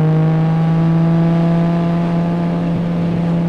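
Steady in-car drone of a Nissan Skyline GT-R's RB26 engine and exhaust at constant revs, a loud continuous hum with strong low harmonics heard from inside the cabin, no talking.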